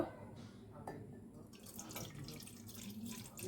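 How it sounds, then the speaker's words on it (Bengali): Heated milk poured from a container into a cup or bowl in a home kitchen, a soft liquid splashing stream that runs quietly and continuously with faint clinks. "এই যে দুধটা এখন ঢেলে দিব"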